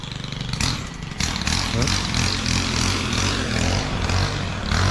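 A lawn mower engine runs steadily and loudly up close in a garden, with a brief change in pitch near the start as it revs and then settles.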